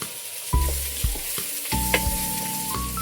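Ginger sautéing in a small amount of cooking oil, with a few close clattering stirs against the pan over a continuous sizzle and no talking.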